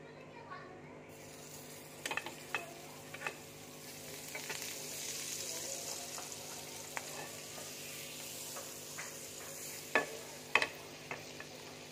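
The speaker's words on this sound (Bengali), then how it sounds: "এবার আমি পাউরুটিগুলো একটু নেড়ে নেব।" Bread slices fry in a pan with butter and a little oil, giving a faint, soft sizzle broken by scattered clicks and scrapes of turning and stirring.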